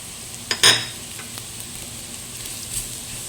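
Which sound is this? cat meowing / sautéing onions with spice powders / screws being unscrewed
sautéing onions with spice powders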